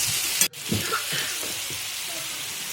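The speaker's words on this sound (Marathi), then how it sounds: "आणि चांगलं अजून परतून घेऊ" Tomatoes sautéing in a hot pan with salt, a steady close sizzle broken by a brief clack of a utensil and soft stirring scrapes.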